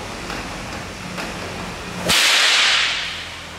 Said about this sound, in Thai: เป็นเสียงจากเส้นเชือกทางด้านล่างมันกระทบกัน